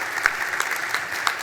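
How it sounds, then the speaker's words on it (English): Audience applause for the panelists of a mining investment panel, a steady, moderately loud patter of many hands with a few sharper individual claps standing out, filling the brief moment. "I'd like you to join me in a round of applause for my panelists."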